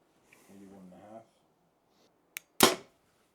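A single sharp bow shot, a quick snap followed by a loud thwack of impact, after a brief stretch of muffled talk.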